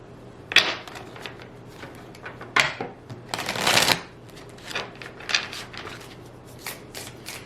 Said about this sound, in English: I'm going to pull 3 cards from this deck, which is called the Untold Messages of the Heart